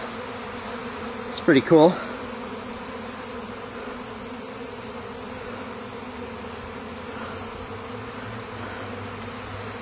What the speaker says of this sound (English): this is what it looks like in the eye of the swarm